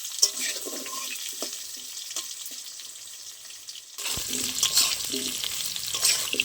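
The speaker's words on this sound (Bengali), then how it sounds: "আলুগুলো একটু ভেজে নেবো ভালো করে মশলার সাথে" Potatoes fry with spices in a pan for a Bengali pumpkin and chickpea curry, a steady close sizzle with soft stirring that grows louder and busier partway through.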